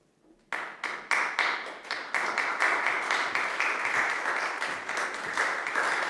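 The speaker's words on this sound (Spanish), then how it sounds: "La firma de la encíclica, como pueden ver y escuchar, es acogida por los aplausos de los frailes y los prelados presentes." Friars and prelates applaud the signing of the encyclical Fratelli Tutti at the altar before the tomb of Saint Francis: a short quiet lull, then sustained, dense clapping from a gathered crowd that holds steady to the end.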